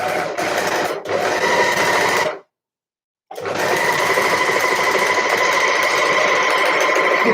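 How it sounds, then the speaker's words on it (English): Overlocker sewing a short seam on a sweater: steady, loud mechanical whirring and rapid stitching chatter in two bursts separated by a brief silence, with no talking. "So I'm just going straight to the overlock, or I'm not even pinning mine because it's such a short seam."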